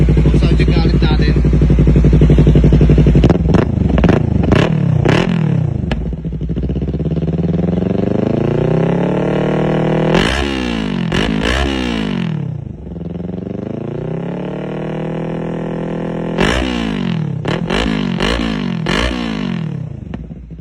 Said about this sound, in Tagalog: So yun yung ginawa natin upgrade para dito sa R3, yung full system exhaust niya